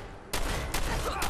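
Pistol gunfire in the video game Fallout 4, with sharp loud shots starting a third of a second in and repeating in a quick irregular burst of about three blasts over a continuous noisy game backdrop.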